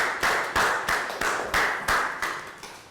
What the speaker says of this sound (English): Please, can we have a round of applause for Nadia?